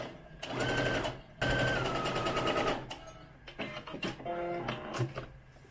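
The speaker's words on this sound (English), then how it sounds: "I'm just gonna sew as close to this seam as I can right here" Sewing machine running in steady rapid bursts, stitching close along the seam of a doll-sized undergarment, with two sustained runs broken by short pauses and lighter stop-start stitching toward the end.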